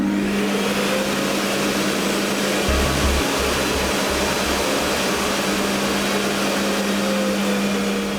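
A Thomas Parkett Master XT vacuum cleaner runs loud and steady with a constant motor whine and airflow hiss, a brief low thump in the middle, no voices.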